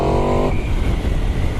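A 2017 Aprilia RSV4-RF sport motorcycle roars loudly at close range through a turn, its engine note holding a steady high-revving pitch that then settles into a broad, rough drone mixed with wind rush.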